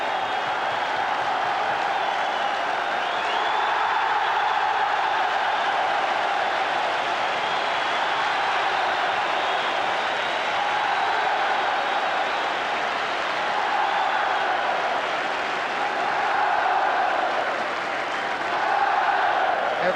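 A large stadium crowd at a Scotland versus England football match keeps up a steady, distant roar of cheering and scattered applause as the Scottish players come forward for the cup presentation, the sound broad and continuous throughout.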